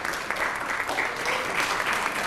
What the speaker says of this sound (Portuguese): Aplausos para ela.